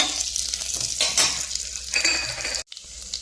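Cumin seeds and dried red chillies sizzle and crackle in hot ghee, a steady close frying hiss with small pops and a brief spoon stir, cutting off near the end.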